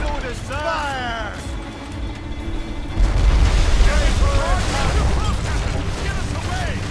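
Ship cannons booming in a naval battle in Assassin's Creed Rogue, heavy rumbling blasts swelling midway over crew voices shouting in the background.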